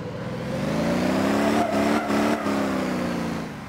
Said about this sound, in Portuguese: Então vamos pegar o nosso carro. Vamos dirigir ele.